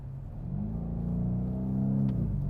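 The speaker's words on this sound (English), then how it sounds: "Just listen to that engine." A 2019 BMW M850i's V8 engine revs, a deep, steady rumble building gradually and holding loud and close for a couple of seconds, with no talking.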